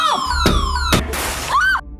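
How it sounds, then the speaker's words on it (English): A house security alarm blares loud and near, rising and falling electronic wails with two sharp bangs midway, cutting off abruptly at the end. "Upon entering the house, the security alarm goes off."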